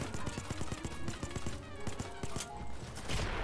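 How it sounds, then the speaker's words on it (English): Repeated shotgun blasts from a video game set during a car dealership robbery, sharp percussive shots in a loose, uneven rhythm over a busy background of game noise. "Just shotgun blast."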